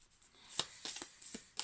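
A deck of cards is shuffled by hand in a quiet indoor setting, a few soft riffling bursts with short pauses between them.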